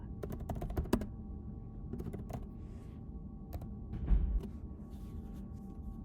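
Someone types on a computer keyboard, a rapid irregular run of close, crisp key clicks with brief pauses, over a low steady room hum.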